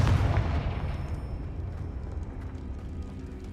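The Confringo spell explodes in Hogwarts Legacy with a single loud, close blast at the very start, then a rumbling low tail that slowly fades away.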